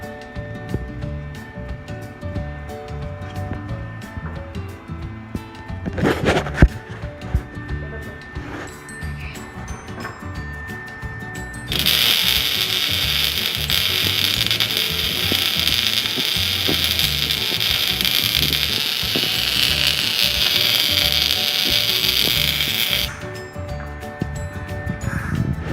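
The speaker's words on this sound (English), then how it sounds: "I made a little weld right about right there" Welding arc with a steady, loud broadband sizzle and crackle lasting about eleven seconds, set apart by quieter workshop sounds before and after.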